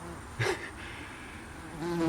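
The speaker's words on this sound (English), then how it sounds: "There's a bee around the camera." A bee buzzes close around an outdoor camera, its drone rising and falling as it passes near the microphone, with a louder swell partway through and again at the end.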